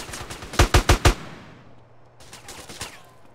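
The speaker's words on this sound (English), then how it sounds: "Who's shooting?" Gunfire in the video game GTA San Andreas: a quick volley of four loud, evenly spaced shots, then a few fainter scattered shots and background game noise, with no talking.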